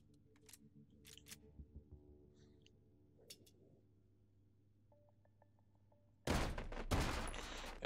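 Video game gunfire in a World War II style shooter: scattered faint shots and clicks, then a loud sustained burst of rapid fire near the end.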